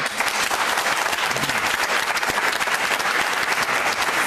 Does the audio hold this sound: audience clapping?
yes